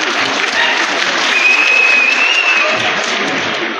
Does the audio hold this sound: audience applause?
yes